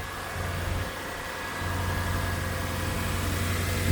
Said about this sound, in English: we check that the engine runs like it should